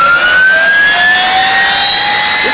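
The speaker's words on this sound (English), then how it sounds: "I would stay away from that exhaust when he starts it." Motorcycle engine starting up, a loud, steady jet-like whine with tones that rise slowly in pitch and no one talking.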